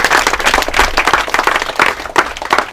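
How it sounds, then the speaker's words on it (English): A college audience claps steadily together, dense overlapping handclaps keeping up a fairly loud, continuous rhythm throughout. "So let's clap for half minute."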